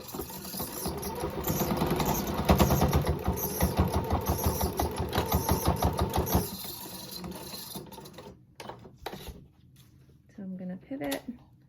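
Sewing machine running a quick, steady stitching rhythm through the fabric of a non-medical face mask, then stopping and leaving a few light clicks and handling noises, close and moderate, with a voice talking over it.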